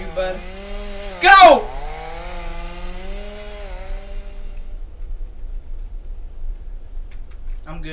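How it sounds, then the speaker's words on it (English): A chainsaw in the horror video game Escape the Backrooms revs with a loud buzzing whine that slides down in pitch and fades out after a few seconds, leaving near silence. "Why does he have a chainsaw?"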